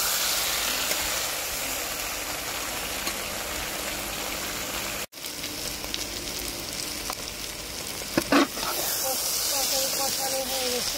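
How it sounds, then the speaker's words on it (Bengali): Soybean chunks and potatoes frying and being stirred in a hot pan, a steady loud sizzle and hiss throughout with occasional scraping stirs, briefly interrupted partway through, while a voice speaks over it. "সয়াবিন আলু একসাথে দেওয়া হয়ে গেছে, এখন আমি ভালো করে নেড়ে দেবো। এগুলো আবার ভালো করে কষিয়ে নেবো আমি।"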